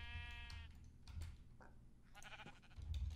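Sheep bleating in Minecraft, several short wavering bleats across a few seconds over a low, steady game background, with no talking.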